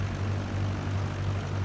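A small propeller airplane drones steadily in flight along the Delaware Bay coastline, a loud, constant low engine hum close and unbroken.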